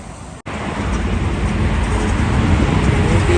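Strong wind roars steadily and loudly, a broad buffeting rush with low rumble that briefly cuts out near the start, then continues unbroken.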